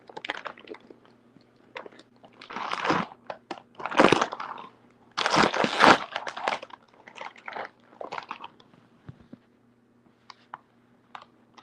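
Close crunchy chewing and biting during a mukbang comes in irregular bursts, loud crunches clustered in the middle and softer ones trailing off, over a faint low hum.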